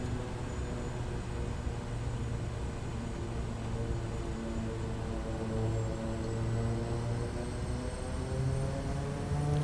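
A Kodiak 100 turboprop engine runs steadily at high idle and full RPM on a runway in Papua New Guinea, a loud, constant propeller drone with a faint high whine and no talking.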